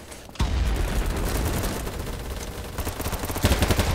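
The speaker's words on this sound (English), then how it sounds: "Why is there a delay on shooting?" Rapid gunfire from a BattleBit Remastered match, a dense run of close, loud shots hammering almost continuously, with a sharp opening blast and a heavier burst near the end.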